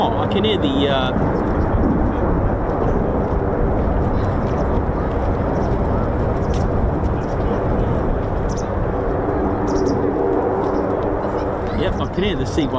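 A Lockheed C-130 aircraft droning overhead near an air force base, a loud continuous rumble of propeller engines that fills the whole stretch, with faint talk around it.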